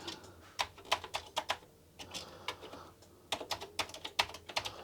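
Keys clatter on a filthy Commodore 64 keyboard in quick irregular bursts of close clicks, pausing briefly between runs, with no talking.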